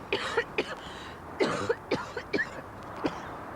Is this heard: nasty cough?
yes